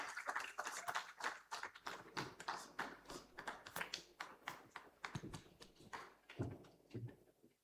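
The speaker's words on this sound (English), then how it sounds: "Please, a round of applause for her." Scattered, fairly faint claps from a conference audience, uneven individual hand claps rather than a dense wash, distinct and irregular across the stretch.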